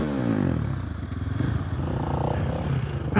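A supermoto motorcycle engine runs at high revs, a buzzing, rattly drone that holds steady close by for a few seconds with slight clatter.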